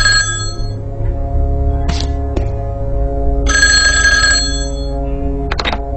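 An in-game telephone rings loudly in The Last Crown: Blackenrock video game, with several bright electronic ring bursts separated by short pauses and a steady low hum underneath.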